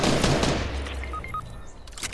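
A burst of gunfire in the video game Fortnite: a dense, loud volley at the start that trails off into a fading rumble, followed by a few faint metallic tones.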